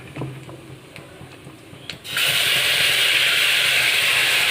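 Ground spice paste dropped into hot oil with a bay leaf and white cumin, a sudden loud, steady sizzle that erupts after a quieter stretch of faint kitchen clatter and keeps hissing close up without pause.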